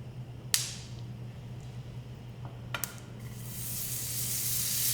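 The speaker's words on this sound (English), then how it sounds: "Now my spaghetti squash seeds are starting to toast. As you can hear, they kind of explode." Spaghetti squash seeds toasting in a pan give off a few sharp, isolated pops over a low steady hum, followed by a rising hiss toward the end.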